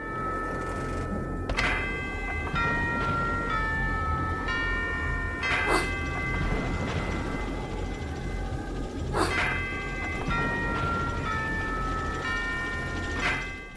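Tuned bell tones like a clock tower chime play in the game music of American McGee's Alice, with several sharp strikes spaced a few seconds apart over sustained melodic notes, steady and moderately loud.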